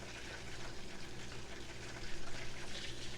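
Butter foaming and browning in a pan for chocolate chip cookies sputters with a continuous close bubbling sizzle, a dense watery crackle that swells slightly louder near the end.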